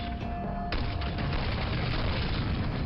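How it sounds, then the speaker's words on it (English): Explosion in the shooter Quake, a dense booming blast that starts sharply early on and rolls into sustained loud rumble and crackling debris for several seconds, close and full. "Okay, yeah, he exploded."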